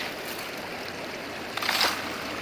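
Creek water rushes through a gold prospecting sluice box lined with V-matting and miner's moss, a steady close flow with a brief louder splashing surge near the end.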